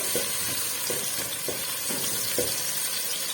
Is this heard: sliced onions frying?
yes